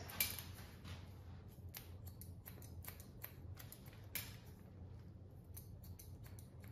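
Scissors snip repeatedly while point cutting hair into different lengths during an undercut styling session, producing quiet, irregular metallic clicks over a low steady background hum, with no talking.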